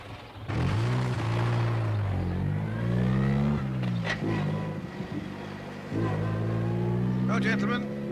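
A vintage car's engine starts up and revs, climbing in pitch through several gear changes as it pulls away. The drone is loud and close, with a brief lull before the revving resumes.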